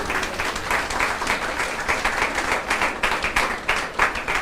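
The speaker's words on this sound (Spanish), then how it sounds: "Den un aplauso al Señor." A church congregation applauds during a sermon, a dense steady spatter of many hands clapping that carries on for several seconds, loud and sustained with slight swells.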